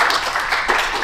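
Audience applause for children's storytellers at a storytelling festival in a Native friendship centre, a steady wash of clapping filling the short moment with no voices over it.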